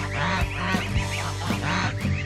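Adult geese honking and calling in a pen with goslings, several overlapping honks close by in a steady noisy chorus.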